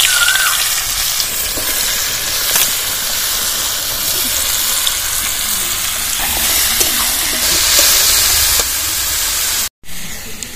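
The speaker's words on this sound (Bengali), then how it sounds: "কুচোনো লাউগুলো আমি কড়ার মধ্যে দিয়ে দিচ্ছি।" Chopped bottle gourd sizzling in hot oil in a wok over dried red chillies, bay leaf and five-spice tempering; a steady broadband hiss and crackle runs throughout, close and loud, with brief stirring clatters.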